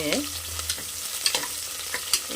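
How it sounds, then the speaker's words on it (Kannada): Onion slices frying in a pan for pulao, a steady close sizzle with a few sharp stirring scrapes and clinks of a utensil against the pan, no voices. "ಇದಕ್ಕೆ ಒಂದು ಈರುಳ್ಳಿಯನ್ನು ಸೇರಿಸ್ಕೊಳ್ತಾ ಇದ್ದೀನಿ ಇದು ಅಷ್ಟೇ ಈರುಳ್ಳಿ ಚೆನ್ನಾಗಿ ಫ್ರೈ ಆಗಬೇಕು"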